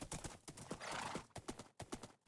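A horse running in Minecraft, quick rhythmic clip-clop hoofbeats in a steady galloping pattern with a brief breathy snort midway, fairly quiet and heard alone.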